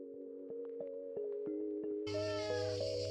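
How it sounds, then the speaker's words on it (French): A hungry cat meows insistently and close, a sustained drawn-out cry that grows louder and harsher partway through, with faint clicks and light tapping in the background. "Ça fait 1 heure qu'il miaule parce qu'il veut à manger."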